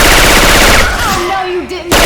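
Syphon Filter weapon sound effects replace the gunfire in Left 4 Dead 2: a loud rapid burst of shots up front, then a short lull with a falling synthetic tone before another abrupt blast at the end.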